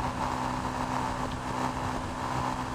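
Continuous engine drone of a Yamaha YZF R125 motorcycle held at high RPM while riding, a steady, dense roar with no breaks, close and loud with wind mixed in.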